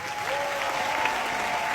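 Steady, dense applause from a large crowd celebrating the 2023 Africa Cup of Nations trophy in Côte d'Ivoire, continuous and fairly loud throughout with no pauses.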